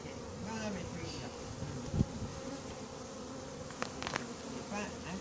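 A swarm of honeybees, gathered during a swarm capture, keeps up a dense, continuous buzzing hum close by. A couple of brief knocks cut through, and a voice is faintly present.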